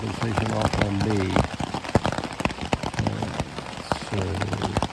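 Rain drumming on the outside of a tent, a steady close patter with sharp drop hits, heard under a voice talking intermittently.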